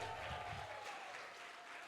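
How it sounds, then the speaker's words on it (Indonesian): A church congregation at a Christmas revival service cheers and applauds together, a steady dense wash of clapping and voices at moderate volume for a couple of seconds. "Beri sorak-sorak buat Tuhan"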